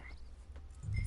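Horse hooves clip-clop in a PS4 video game, a few soft footfalls growing louder and closer toward the end, with no talk.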